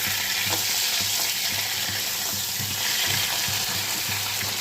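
Chicken pieces frying in a pan, a dense continuous sizzle with rhythmic stirring scrapes, close and loud throughout with no voices.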